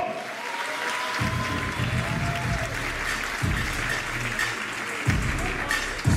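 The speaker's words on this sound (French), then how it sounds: "S'il vous plaît, première d'applaudissement pour John Soulo." A comedy club audience applauds as comedian Jon Sulo is brought on stage, with steady dense clapping throughout, a few low thumps and rumbles mixed in, and no clear speech over it.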